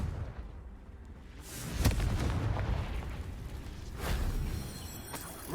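Explosive blasts from a Confringo fire spell in the Hogwarts Legacy video game: two or three booming bursts over a rumbling game background, moderately loud.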